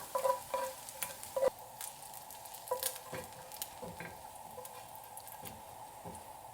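Bacon moved around a hot pan, with soft stirring scrapes and clicks over a quiet, steady sizzle, louder in the first seconds and then easing to a low fry.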